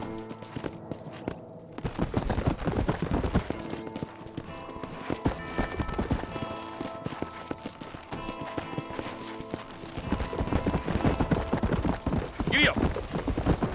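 A horse galloping in the video game Red Dead Redemption, rapid rhythmic hoofbeats pounding close and loud without a break, with jingling tack and a brief whinny near the end.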